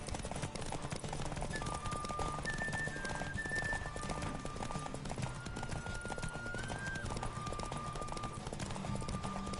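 Horse galloping in a race in The Witcher 3 video game: steady rapid hoofbeats run throughout under continuous wind rush and faint tonal game sounds, with occasional snorts.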